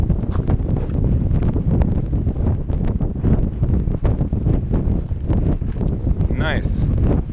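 Gusty desert wind buffets the microphone in Golden Canyon, Death Valley, a steady low rumble running throughout under footsteps and occasional talk.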